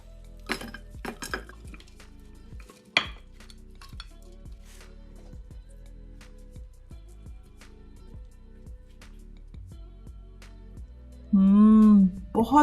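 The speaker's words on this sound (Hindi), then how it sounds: "चलें इसे डिश आउट करते हैं।" BBQ namkeen mutton, dum pukht style, served from a pot into a dish, making sharp metallic clinks and light scrapes spaced across a quiet stretch, with a short burst of voice near the end.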